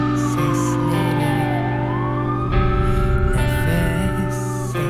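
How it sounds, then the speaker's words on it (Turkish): Emergency vehicle sirens wail in a rising and falling sweep, loud and continuous, layered over sustained musical tones with a heavier low rumble joining midway. "Siren sesleri"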